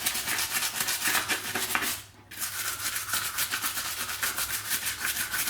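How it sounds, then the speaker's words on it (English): Forge World resin model parts for a Storm Eagle Gunship are scrubbed during washing, brisk close rubbing strokes in a steady rhythm, broken by a short pause partway before the scrubbing resumes. "you just get in there, give it a good scrub"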